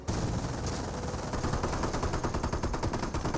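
MG42 machine gun firing in a Company of Heroes match, a sustained rapid burst of automatic fire that runs loud and steady for the full stretch, suppressing a rifleman squad.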